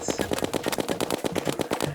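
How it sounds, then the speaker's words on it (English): Rapid repeated firing of a snowball cannon in Terraria master mode, a fast dense stream of punchy shots with no pause, loud and steady throughout. "I have a snowball cannon."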